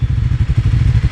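A motorcycle on a mountain road from Chatakpur toward Sittong rolls downhill on engine braking without the clutch, its engine thrumming loudly and close in a rapid, even pulsing beat.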